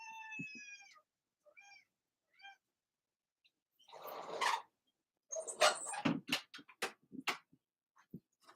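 A house cat meows a few times in short, tonal calls, followed by closer rustling and handling noises as the cat is picked up for a hug.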